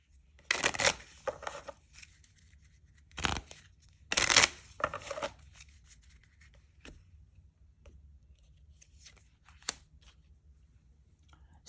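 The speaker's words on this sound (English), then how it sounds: "Now I'm going to come back, shuffle the deck" A deck of altered playing cards is shuffled by hand, a few quick riffling bursts close by followed by soft scattered taps and clicks in a quiet room.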